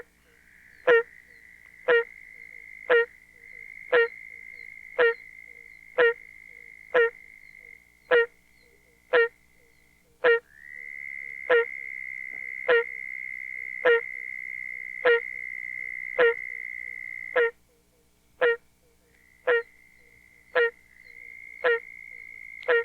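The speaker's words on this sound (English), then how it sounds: "In this recording, barking tree frogs are accompanied by a peeping oak toad, a trilling southern toad, and a rattling chorus frog." A night chorus of barking tree frogs with a peeping oak toad, a trilling southern toad and a rattling chorus frog: loud, evenly spaced sharp calls about once a second over a steady high trill that drops out briefly.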